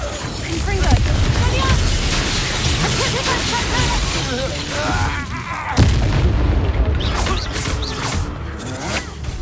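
Confringo blasting spell explosions in the video game Hogwarts Legacy, a dense barrage of loud booms and crackling impacts with a sharp blast near the middle, over music and a voice.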